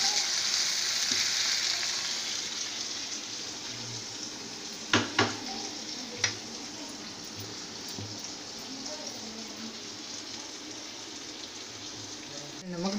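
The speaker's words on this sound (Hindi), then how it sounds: "अब मैं मसाले डाल रही हूँ।" Spices sizzle and fry steadily in a hot pan for bhindi gosht, a continuous close hiss with a few brief clatters of stirring partway through.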